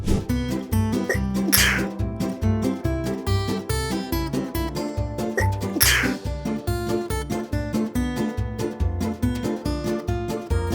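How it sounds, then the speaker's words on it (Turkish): Two sharp, breathy sneezes burst out about four seconds apart over a steady, rhythmic children's music backing in a Bible lesson for kids. "Çocuklar bazen hapşırır mısınız?"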